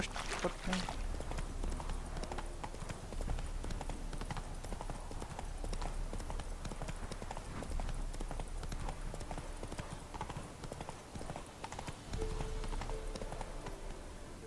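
Roach, a horse in The Witcher 3 video game, clip-clops along at a steady walk, with rhythmic hoof falls on the ground continuing under a man's speech and ambient game sound.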